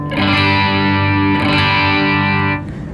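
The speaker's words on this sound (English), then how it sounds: "all distortion you're hearing is just the preamp being pushed into overdrive" A thick, overdriven electric guitar chord on the bridge pickup, distorted by an Electro-Harmonix pedal's preamp pushed into overdrive, rings out loud and sustained, heavily distorted, then cuts off after a few seconds.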